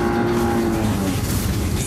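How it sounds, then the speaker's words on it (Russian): Engine of a Cadillac CTS4 all-wheel-drive sedan driven on ice in winter, a loud sustained tone with a droning hum that shifts pitch briefly, heard close. "послушайте, как звучит мотор. Здорово!"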